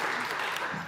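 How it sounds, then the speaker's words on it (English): A brief burst of applause from a community remembrance gathering honouring a local group, soft and fairly distant clapping lasting under a second. "If everybody would give Team Builders a round of applause, please."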